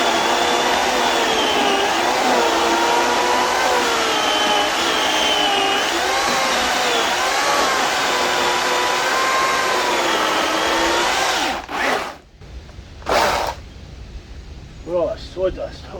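A WORX WG 16-inch electric chainsaw runs loud and steady through wood for about eleven seconds with a wavering motor whine, then cuts off abruptly, followed by a couple of brief bursts and quieter handling noise.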